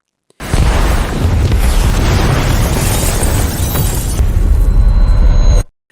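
A bomb blast brings down a building in a film scene: a massive, loud explosion erupts abruptly and roars with thick, rumbling debris for several seconds before cutting off sharply.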